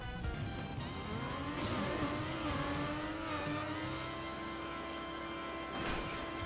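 Car engine in the Trackmania racing game, on an 'Impossible' map from 2008, revving at a steady high pitch with a rising whine early and a sustained drone, close and continuous.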